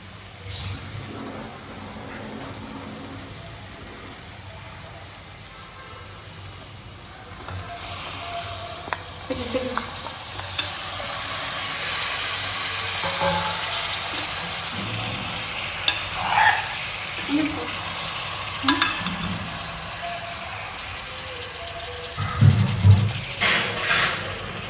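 Chicken hitting a pan of browned onions, a continuous sizzle and frying crackle that rises in the later half with stirring clatter and spoon knocks, no talking.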